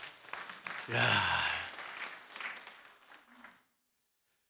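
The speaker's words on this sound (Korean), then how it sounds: "박수 한번 쳐주십시오." An audience at a church elders' lecture bursts into applause, a loud burst of clapping that peaks early, then fades with scattered claps before silence; a voice calls out briefly beforehand.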